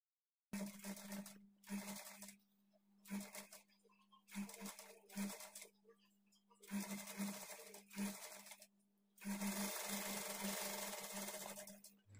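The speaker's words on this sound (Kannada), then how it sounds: "ಈ ಕಡೆಗೆ ಸ್ಲೀವ್ಸ್ ಅಟ್ಯಾಚ್ ಮಾಡ್ಕೊಳ್ಬೇಕು" A sewing machine stitches blouse sleeves onto the body panel in close, loud bursts of rapid whirring, separated by short pauses as the fabric is repositioned.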